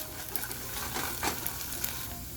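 Ginger garlic paste frying in a pan for a beef quesadilla, a steady close sizzle with a few light scrapes of stirring, no voices.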